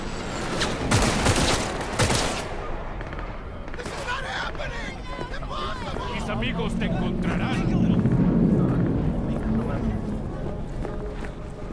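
Bursts of rapid gunfire crackle in the video game Cyberpunk 2077, loud volleys in the first few seconds giving way to rumbling action and game effects, with voices speaking over it.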